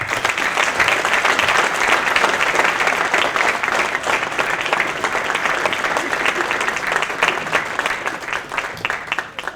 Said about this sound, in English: Just one more round of applause for Jeff.